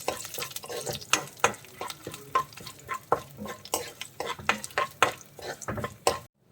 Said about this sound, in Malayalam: ഇതൊരു ഗോൾഡൻ കളർ ആവുന്നത് വരെ നമുക്ക് നന്നായിട്ടൊന്ന് വറുത്തെടുക്കാം.